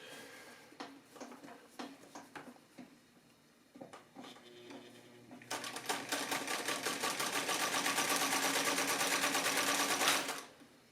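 Singer 319W sewing machine starting with a few clicks and short stitching bursts, then running at a fast steady whir for about five seconds before stopping.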